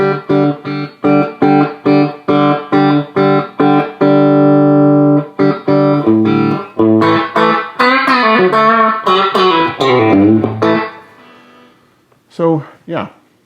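Electric guitar played through a vintage solid-state Lab Series amp with Fender-style reverb, sounding as loud, evenly spaced chord stabs. A long held chord follows, then busier ringing notes that fade into a few brief plucks.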